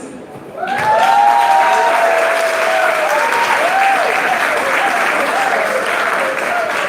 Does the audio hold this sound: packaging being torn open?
no